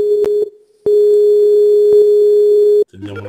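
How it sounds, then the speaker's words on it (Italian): A telephone ringing tone sounds on an Italian conference call, with long steady single-pitch tones separated by short gaps and a few clicks, loud and alone, followed by a brief burst of voice at the end. "Sta squillando."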